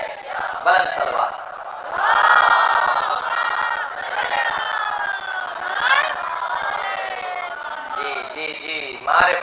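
A large crowd at a Muharram majlis in Karachi loudly recites salawat in unison, a sustained wave of massed chanting voices that swells and surges over several seconds.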